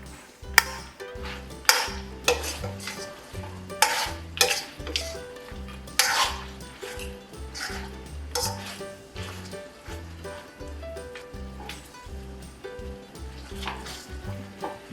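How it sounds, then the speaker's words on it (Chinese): Garlic oxtail reducing in a clay pot over high heat gives off a close sizzle, with a spoon stirring and clinking against the pot at intervals over a steady rhythmic low backing. "砂锅中， 牛尾烧透了，然后大火收汁"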